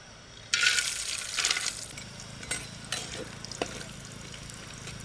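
Cashew nuts dropped into hot oil for a curry leaf chicken fry, a sharp sizzle burst that settles into softer bubbling and a few clinks of a spoon or pan.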